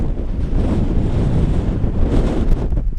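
Strong wind roaring steadily into the microphone on a downhill par-3 hole of a golf course, a constant low rumbling buffet throughout.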